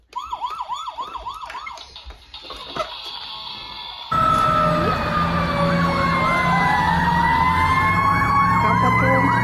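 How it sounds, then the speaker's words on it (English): A Paw Patrol toy fire truck plays a loud electronic siren that first wails in rapid cycles, then switches to a steadier, louder, sweeping siren over a background of engine noise. "Paw Patrol fire truck."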